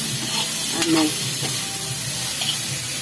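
Rice sautéing in a hot pan gives a steady, close sizzle and hiss with a few light stirring scrapes, continuous for the whole stretch.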